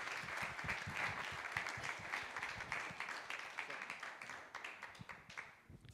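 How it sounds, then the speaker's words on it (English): Audience in a room at a poker league launch event applauding a chairman as he comes on stage, a sustained round of clapping that slowly thins and fades toward the end. "Can we have a round of applause, please?"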